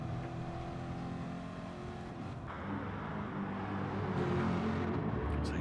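Race cars lapping Brands Hatch in a Gr3 racing video game, a steady droning engine whine with shifting pitch as cars rev and pass, building slightly louder toward the end.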